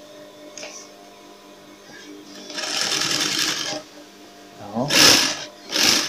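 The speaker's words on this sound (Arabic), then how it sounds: "وهنبدأ نخيط كده" A sewing machine stitches around the sole of a clog-style shoe in short, loud mechanical bursts that stop and start. A voice speaks briefly between the runs.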